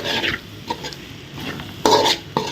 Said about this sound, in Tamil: மசாலாவும் உருளைக்கிழங்கு மிக்ஸ் ஆகும்